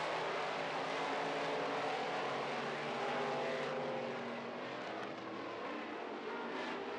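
Modified stock cars roar around a dirt track during a heat race, a dense, continuous engine drone close by with no one speaking.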